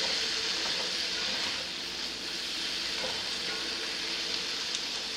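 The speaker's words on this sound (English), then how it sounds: "And I'm just going to go ahead and stir all this" Bacon with butter frying in a cast iron pan, a steady dense sizzle with faint scraping as it is stirred, continuous and fairly close.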